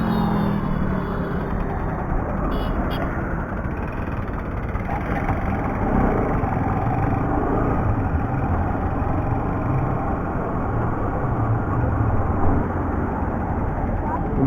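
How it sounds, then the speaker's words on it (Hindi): A Bajaj Pulsar NS motorcycle engine idles with a suspected crank noise, a steady close rumble running throughout under voices talking nearby. "भाई क्रैंक की आवाज शायद से आ गई बाइक में"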